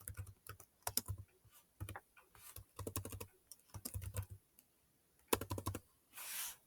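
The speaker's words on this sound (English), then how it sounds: "let's just type in a random zip code" Keys on a computer keyboard are tapped close up as someone types in a zip code, coming in quick uneven bursts of clicks with short pauses between, with no talk.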